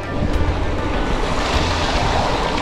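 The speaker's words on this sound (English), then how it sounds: "little water crossing. See if we can't coast across this." Gravel bike coasting through a shallow water crossing on a spring gravel camp ride, a loud continuous rushing splash mixed with heavy wind roar, no talking.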